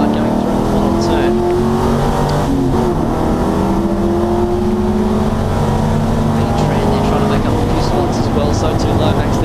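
Race car with an LS1 V8 engine in a Nissan 180SX body rounds the final turn at Wakefield Park during the 300 race, its engine roaring loud and steady with a shifting pitch across the run.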